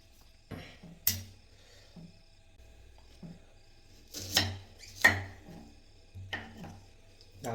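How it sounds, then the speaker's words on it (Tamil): A knife chops onions on a board at night in a home kitchen, a handful of separate, close, crisp cuts spaced irregularly across a quiet room, some single and some in quick pairs. "நான் வெங்காயம் வெட்டுற ஸ்டைலே வேறுங்க"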